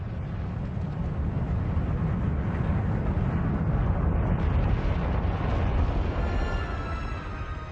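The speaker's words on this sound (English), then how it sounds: "it spews lava in spectacular fiery fountains" A deep, continuous roar and rumble of a Hawaiian volcanic eruption with lava fountains, steady and loud throughout with dense low-end noise and no pauses.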